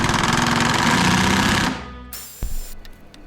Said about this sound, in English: Then we'll use an impact to drive the screws